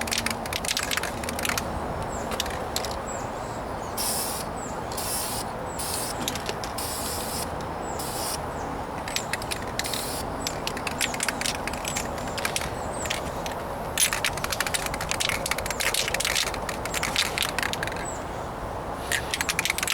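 Rattle can spray paint hissing in light coats over the trunk of a 1998 Toyota Corolla outdoors in a breeze, bursts of broadband spray sounding close and steady with brief pauses between passes.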